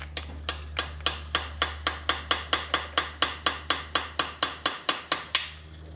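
A big straight pick is tapped into a hard metal-core seal in a Dodge Power Wagon engine bay, giving a steady run of about two dozen sharp, evenly spaced metallic taps, close and alone over a low background hum.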